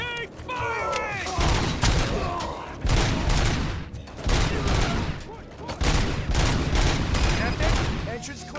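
Dense gunfire in the video game Robocop Rogue City, a loud continuous fusillade of overlapping automatic bursts and impacts throughout, with shouted voices mixed in.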